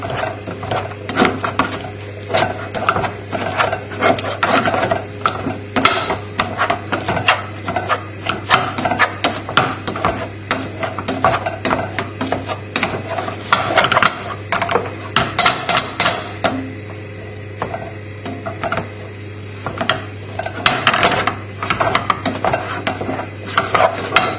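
A hand masher works through a pot of food with melting butter, producing rapid, irregular squelching thumps and clacks in a steady busy rhythm, close and fairly loud, with no talking.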